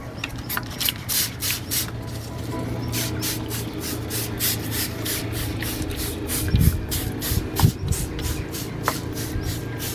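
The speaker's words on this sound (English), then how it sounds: "Spray the plants with this natural solution every 7 days." A hand sprayer mists natural solution onto tomato plants in a series of short, sharp hissing bursts repeated at an even pace, close by, with light rustling of leaves between the pumps and no talking.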